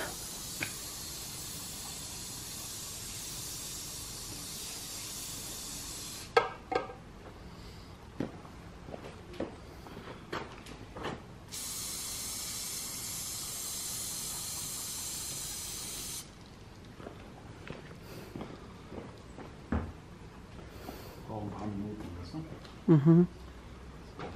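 A cleaner spray bottle hisses in two sustained bursts and a few short puffs, fairly faint, amid handling noises and occasional talk.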